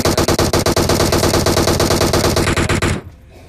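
Rapid automatic gunfire rattles out in a loud, continuous burst of about three seconds during a PUBG match, then cuts off abruptly into quiet.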